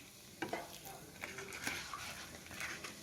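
Papad frying in hot oil in a pan, a steady close sizzle with light crackles and stirring scrapes, faint voices in the background.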